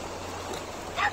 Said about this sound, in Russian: Где ты там гавкаешь-то?